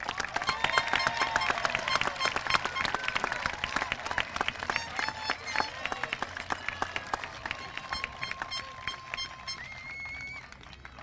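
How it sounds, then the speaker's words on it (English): Audience applause at a school moving-on ceremony for 8th graders, steady claps filling the hall throughout and tapering slightly near the end, with faint voices and whistles mixed in. "Let's recognize Mr. McGravy's homeroom with a round of applause."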